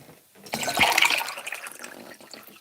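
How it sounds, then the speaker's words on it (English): Water is poured hard into a cup in one loud, splashy gush that swells and then tapers into a trickle, close to the microphone. "Very aggressive pouring, that's right. Get that water in that cup."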